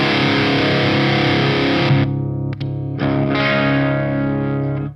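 An overdriven Marshall Silver Jubilee 2555X guitar amp rings out a sustained crunchy chord, briefly cut and restruck before holding to a sudden stop, loud and alone.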